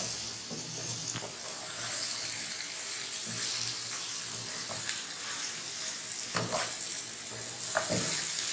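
Bitter gourd and onion sizzle softly in a pan, a low steady frying hiss broken by occasional scraping stirs and small clicks, close but quiet.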